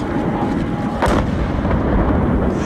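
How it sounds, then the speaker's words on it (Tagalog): Gunfire is traded during a battle around a village, with heavy booming reports and a sharp blast near the middle, echoing over a dense rumbling background that stays loud throughout. "Umaalingaw-ngaw ang palitan ng putok."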